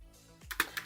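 Keystrokes on a computer keyboard while entering text into Excel 2019, a few separate clicks in quick succession after a short low thump, close and fairly quiet.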